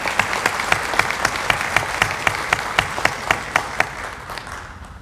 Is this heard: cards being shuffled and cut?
no